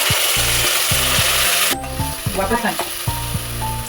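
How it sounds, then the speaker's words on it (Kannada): Spinach paste for palak rice fries in a pan with a loud, continuous sizzle, overlaid by repeated scraping and stirring strokes of a utensil against the pan. "ಇವಾಗ ನೋಡಿ ಪಾಲಕ್ ಪೇಸ್ಟು ಹಾಕಿದ್ದೇನೆ ಇದರಲ್ಲಿ. ಸೊ ಅದು ಸ್ವಲ್ಪ ಫ್ರೈ ಆಗಬೇಕು."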